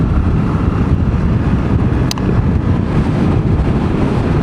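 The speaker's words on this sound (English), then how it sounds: "It's actually really quite blustery, so the wind's kind of buffering you about." Strong gusty wind buffeting a microphone on an exposed stretch of the Whitby coast, a loud, continuous low roar with rumbling surges throughout.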